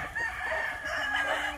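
A gray gamecock rooster on a game farm gives a short, loud crow that rings out close by for about a second and a half, with no talking over it.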